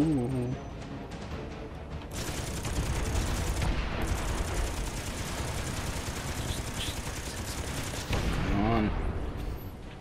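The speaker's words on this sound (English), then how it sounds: "Lasers!" Laser fire in the space shooter game Miner Wars: a dense, continuous barrage of rapid zapping shots, loud and sustained, with brief bursts of different weapon tones layered in.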